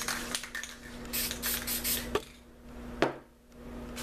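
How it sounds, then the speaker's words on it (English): A series of short spray paint can bursts hiss in quick succession, then pause, followed by a couple of sharper bursts, close up with a steady low hum beneath. "So I'm going to spray out some yellow"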